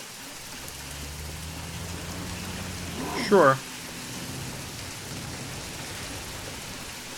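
Steady rain and a rumbling thunderstorm from the Jurassic World Evolution video game wash evenly through the scene, with a brief spoken word cutting in near the middle.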